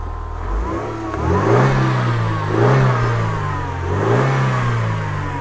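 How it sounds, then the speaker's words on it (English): A Mercedes M111 engine running close by, loud, revved up three times in a row with rising and falling pitch between smooth idle, no talking. "Whoa, look at that little M111, isn't she running beautifully?"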